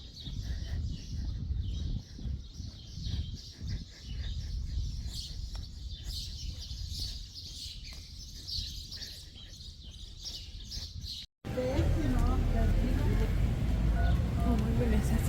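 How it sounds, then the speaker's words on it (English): Many birds chirp and tweet outdoors during a walk in Mexico, a busy layer of rapid calls running under occasional talk and footsteps before louder ambient noise takes over near the end. "Listen to all those birds though."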